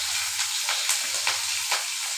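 Close, bright frying sizzle from a pan of food cooking until browned: a dense steady hiss with small rhythmic swells, as if being stirred.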